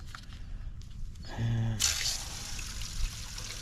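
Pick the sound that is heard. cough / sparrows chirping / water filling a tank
water filling a tank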